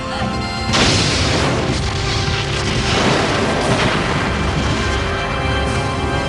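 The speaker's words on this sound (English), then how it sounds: "The Borg are firing! We're gonna die!" Borg vessel firing weapons at a starship in the Star Trek: Borg video game, a loud sustained barrage of booming blasts and crashing impacts that swells after the first second and rumbles on continuously.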